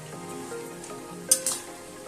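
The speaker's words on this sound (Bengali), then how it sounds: "দিয়ে আমি নেড়ে চেড়ে নিলাম, দিয়ে এবারে এটা আমি আবার ঢাকা দিয়ে দেব।" Spinach vegetable curry sizzling softly in a pan as it is stirred, a faint steady frying hiss with a couple of brief utensil clinks, no voices.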